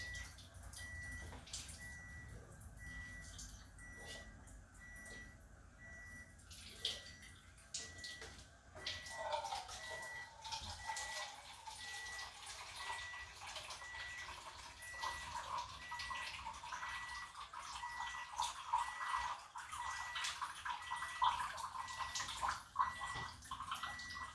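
Water runs steadily through an Enagic water ionizer that filters the flow, adds salt water and electrolyzes it, a continuous close hiss and gurgle with a faint high tone, swelling louder about halfway through.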